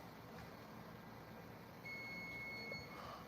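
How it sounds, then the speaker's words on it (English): Kitchen timer beeping faintly in a quiet room, a thin steady tone emerging partway through over low background hum. "What is that beeping?"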